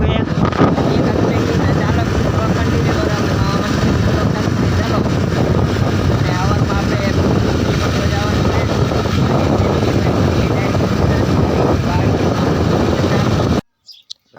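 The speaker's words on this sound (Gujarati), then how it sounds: "બાઇક લઈને અમે જઈએ રહીએ અત્યારે અંધારું છે" A motorbike rides along a road at night, steady roaring engine and heavy wind buffeting the microphone throughout, then cutting off abruptly near the end, with a voice faintly under the noise.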